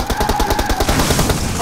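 Rapid automatic gunfire from PUBG Mobile, a steady burst of closely spaced shots rattling loudly and close for the whole stretch.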